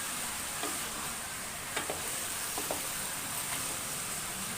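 Brinjal pieces fry in a generous amount of oil for a Karnataka village-style ennegai palya. A dense, even sizzle hisses steadily throughout, with a few faint clicks of stirring.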